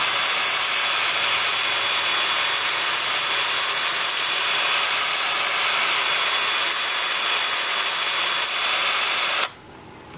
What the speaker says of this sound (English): with the lathe spinning forward at about 350 RPM